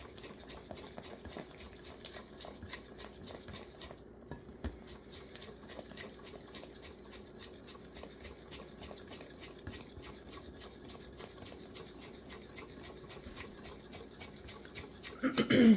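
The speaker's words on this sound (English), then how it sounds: "just mix that up really good" A mixture stirred steadily in a container after the first 500 of a 1,000 measure is added, a continuous fine scraping and swishing rhythm, close and moderately quiet, with no talk.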